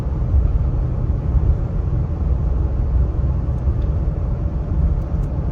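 A steady, loud engine drone and road rumble come from a Ford Expedition with the 3.5 EcoBoost pulling a 5,900 lb equipment trailer uphill in tow/haul mode, running through gear changes with no distinct break.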